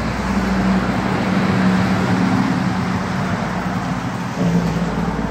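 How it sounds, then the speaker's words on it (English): Passing cars on a quiet street make a steady, loud broadband roar and hum of traffic going by, sustained throughout with a slight dip near the end. "Now, of course, I've got traffic coming by, so it's going to be loud for just a second."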